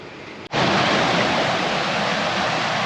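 The New River rushing through its gorge in West Virginia, heard as a loud, steady broadband roar of flowing water that starts abruptly after a brief cut and continues unbroken, with no voices.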